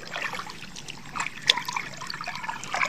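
Irrigation water trickles and splashes steadily into a flooded rice field, a continuous close-up flow with small bright spatters and no talking.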